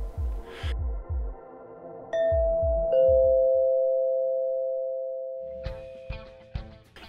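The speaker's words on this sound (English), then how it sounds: "We begin with the premise that an unknown visitor rang the doorbell." A two-tone chime rings out clearly and lingers, preceded and followed by soft rhythmic thumping, like a doorbell sounding in a quiet room.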